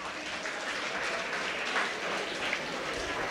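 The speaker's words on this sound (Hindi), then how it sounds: "जिन्होंने हाथ उठाया सभी ताली बजाओ इनके लिए।" Steady applause from an audience at a Brahma Kumaris gathering in Bahadurgarh, clapping for people who raised their hands, an even, continuous patter of many hands with no break and fairly soft overall level.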